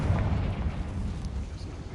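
A fiery Confringo spell explosion in the video game Hogwarts Legacy, a loud, sustained rumbling boom with low-end weight that rolls on for about two seconds.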